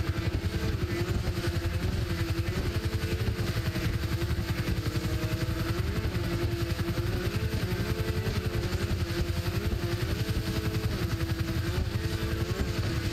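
Helicopter in the video game GTA 5: a steady rotor and engine drone holds throughout, with a wavering mid-pitched whine rising and falling over it, loud and continuous with no talk.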